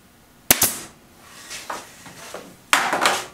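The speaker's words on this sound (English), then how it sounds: "I'm going to use a nail gun to put it together" A nail gun drives nails into wood while a shop piece is assembled: a sharp double crack early on, a few softer knocks in the middle, then another loud burst of shots near the end, with no talk.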